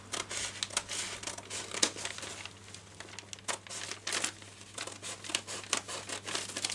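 Scissors cutting through a paper dress pattern; soft, irregular crinkling and snipping close by, fairly faint, with no talk.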